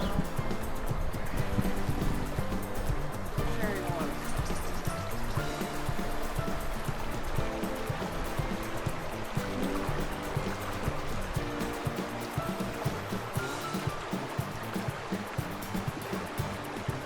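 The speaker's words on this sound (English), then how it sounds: "I'm sitting here by Curecanti Creek." Curecanti Creek rushes steadily nearby, a continuous loud churning of flowing water over rocks with no pauses.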